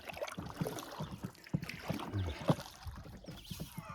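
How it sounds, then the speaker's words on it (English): A canoe paddle strokes through water in quick, rhythmic pulls, close up, with light wind buffeting the microphone and no talking. "I got to paddle hard."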